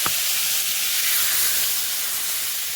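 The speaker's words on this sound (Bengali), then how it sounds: "ঢেঁড়সের তরকারিটা তাড়াতাড়ি ভাজা ভাজা হয়ে গেছে, এবার এর মধ্যে জল ঢেলে দেবো পরিমাণ মতো।" Water poured into frying okra curry sets off a loud, steady sizzling hiss right up close, opening with a brief sharp splash.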